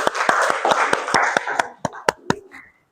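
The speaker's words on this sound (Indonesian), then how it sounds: "tepuk tangan untuk kelompok 1" A classroom group of students claps for a presenting group, with a dense burst of many hands that thins into a handful of separate, sharp claps before stopping.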